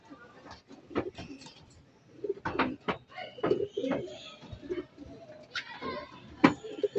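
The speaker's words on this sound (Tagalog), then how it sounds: "Yun no, si Blue Check mga kaibon no, namamaris agad oh" Pigeons in a breeding pen coo in repeated soft, throaty bursts close by, irregular and overlapping, with quiet gaps between calls.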